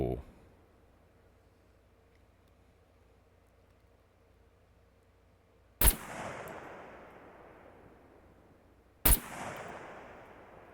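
AK rifle fire in the SCUM survival video game: two loud, sharp single shots several seconds apart, each echoing away into a long decaying tail against a quiet outdoor backdrop.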